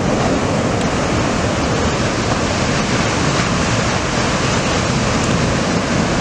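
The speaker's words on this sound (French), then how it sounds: "Il y a quelques vagues aussi" Ocean waves break at Anglet beach in a continuous loud, broadband roar that stays even throughout, with wind in the microphone and no voices.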